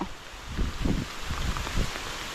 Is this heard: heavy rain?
yes